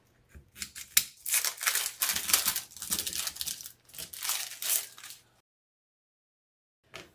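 Scissors cutting and snipping wreath materials, a rapid series of crisp snips and rustling crinkles for about five seconds, close and fairly quiet, then silence.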